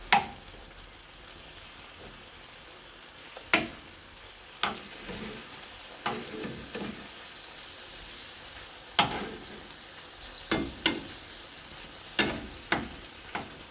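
Chicken pieces frying in oil in a pan for a gravy dish: a faint, quiet sizzle with scattered sharp clicks and scrapes as the pieces are turned, no voices.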